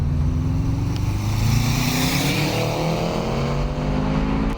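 Modified Subaru car engine running, a steady mid-pitched drone with slowly rising tones as it revs or accelerates, close and continuous with no voices over it.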